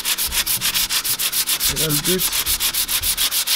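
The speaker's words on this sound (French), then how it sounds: "je préfère mieux tout poncer le bord avec mes mains." Hand sanding the band-sawn edge of a Rickenbacker-inspired bass guitar body, a steady rhythmic back-and-forth scrubbing of about two strokes per second, close and prominent throughout, with a brief murmur of speech partway through.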